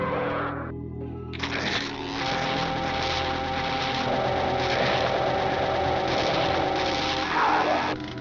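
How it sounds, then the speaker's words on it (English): Idling chainsaw in Doom 2: a steady buzzing, whining motor drone that runs almost without a break, loud and close, with a short sharp burst near the start. "this is the only time I'm going to use the chainsaw"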